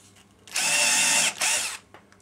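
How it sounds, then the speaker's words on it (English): A power drill bores into plywood in two loud, close bursts, the first longer, with a brief pause between them and no talk. "I'm drilling holes in the"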